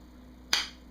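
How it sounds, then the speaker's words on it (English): A single sharp plastic click, close and crisp, as a blade snaps into a rigid sheath against a quiet background. "the blade actually snaps in, holds really securely even without the extra strap"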